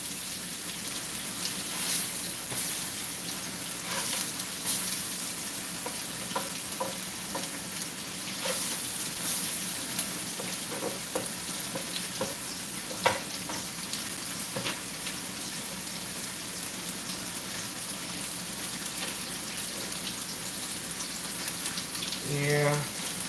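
Pancakes sizzle in a pan with a steady, close hiss and crackle resembling rain, with scattered small pops and brief clicks throughout.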